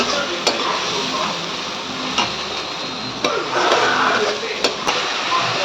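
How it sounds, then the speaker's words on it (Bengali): Onion, garlic and ginger paste sautéing in oil: a steady, close hiss of frying fills the whole stretch, punctuated by a few sharp clicks and taps of a utensil against the pan. "এবার পেঁয়াজ রসুন আদা সব কিছুকে ভালোভাবে কষিয়ে নেবো"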